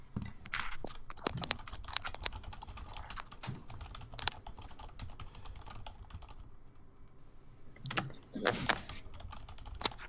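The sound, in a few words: computer keyboard keys tapping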